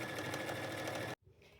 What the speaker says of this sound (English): I am going to start at the top and just sew down to the crotch